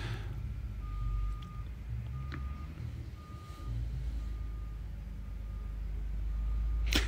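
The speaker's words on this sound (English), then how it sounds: "hope you guys don't hear no background noise. There's a bunch of asphalt being put in by my house." Trucks laying asphalt near a house give a repeating reversing beep at a distance, steady evenly spaced tones over a low rumble of heavy engines.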